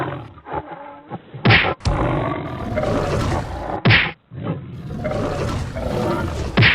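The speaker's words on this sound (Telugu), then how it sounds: "వాళ్ళిద్దరి మధ్య పెద్ద గొడవ జరుగుతుంది" Tiger and buffalo fighting in an animated Panchatantra story, with loud growling roars and sharp impact thwacks in bursts, near and intense, no talk over them.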